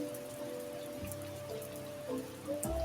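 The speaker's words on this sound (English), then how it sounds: "The once luscious leaves have been struck down by the heavy rain." Heavy rain falls steadily outside a window, a soft continuous patter with scattered drips, with faint tonal background music.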